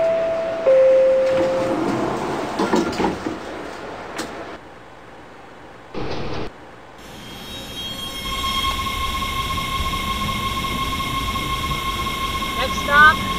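A WMATA 1000 Series Rohr Red Line train in the Openbve simulator pulls away toward Silver Spring, with a chime and brief tones early on, then a rising motor whine and steady rolling rumble building as it departs.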